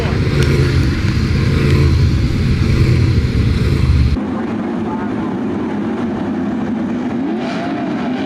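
Sprint car engines roar loudly on a dirt speedway at the Brad Doty Classic as the field gets back underway after a restart, a dense continuous drone that drops to a steadier, slightly quieter rumble midway through.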